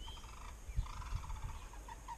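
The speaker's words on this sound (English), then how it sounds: "I'm getting all the birds flying over" Birds, storks among them, call as they fly over an outdoor homestead yard; a few faint, scattered gobbling and honking calls sound at a distance over quiet background noise.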